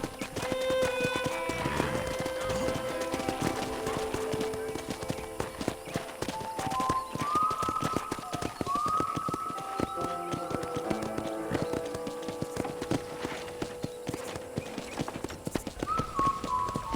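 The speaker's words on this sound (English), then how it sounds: "let's see if you can still ride a horse." Steady clip-clop of horse hooves at a trotting rhythm on a ranch in Red Dead Redemption runs throughout, with an occasional whinny and soft background music.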